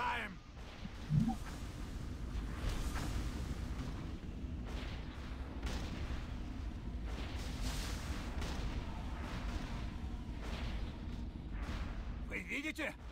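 Cannon fire in the Icecrown Citadel raid of World of Warcraft, a video game: dense, rumbling booms and blasts that keep on under steady voice chat.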